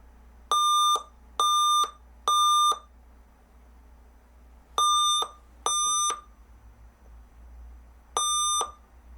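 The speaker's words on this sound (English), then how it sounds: "annoying beep codes." Beep codes from an Alienware Area 51M R1 laptop stuck in a boot loop: clear, loud electronic tones in repeated short bursts, three, then two, then one, over a low background hum.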